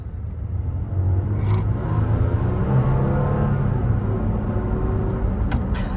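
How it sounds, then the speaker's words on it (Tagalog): 2017 Toyota Tacoma TRD Sport pickup driving, steady low engine and road rumble from inside the cab with a couple of faint clicks, continuous and moderately loud, no talking. "driving the 2017 Toyota Tacoma"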